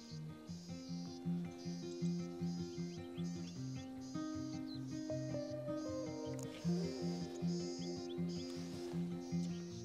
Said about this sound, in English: So the birds are just here in the grass.